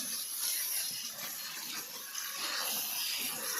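Freshly gathered clams being rinsed in running water to clear away sand and mud, a steady rushing splash that holds close and even from start to finish with no one talking.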